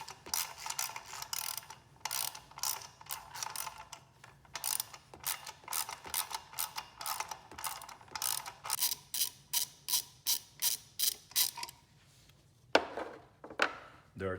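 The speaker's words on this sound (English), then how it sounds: "we're just gonna loosen the bolts for this shield" A ratchet clicks in quick repeated strokes, close and fairly quiet, while loosening bolts on a shield under a 2015 Subaru WRX, with a few short pauses and a final set of slower, louder clicks.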